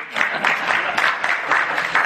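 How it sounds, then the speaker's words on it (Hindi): Audience at a Hindi Bhagavata discourse camp clapping for the camp attendees, a moderate run of steady, slightly rhythmic applause filling the hall throughout. "ताली बजाओ एक बार इनके लिए।"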